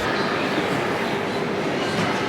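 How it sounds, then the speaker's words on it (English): Japanese bullet train heard as a steady, loud broadband roar and rush that holds evenly throughout, with no gaps or distinct clicks. "This is a bullet train."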